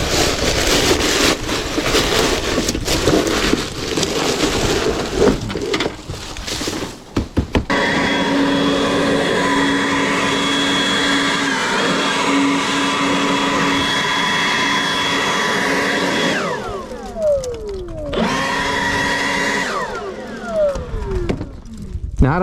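Leaf blower roaring steadily and loud while blowing packed leaves out of roof gutters toward a ridge vent, with shifts in pitch as it moves and a brief drop near the end.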